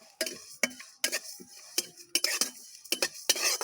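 Cumin and fennel seeds fry in a pan for a jujube pickle, heard as a string of sharp metallic clinks and scrapes of a spoon stirring, with short sizzling bursts between the strikes.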